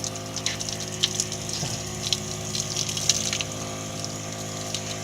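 Running water from the sink of a popup camper, fed by a small pump, with a steady hum and a continuous splashing hiss. It plays close and alone at a moderate level, with light spattering bursts.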